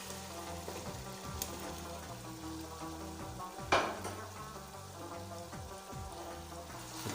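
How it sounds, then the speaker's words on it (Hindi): Potatoes cooking with tomatoes in a pan for aloo palak, a soft steady sizzle and bubbling close by with one brief louder clatter midway, no voices. "अच्छी तरह से पका लेते हैं आलू को भी"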